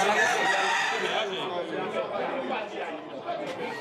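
A rooster at a cockfight in Guadeloupe crows amid a busy crowd, with several people chattering close by over the bird.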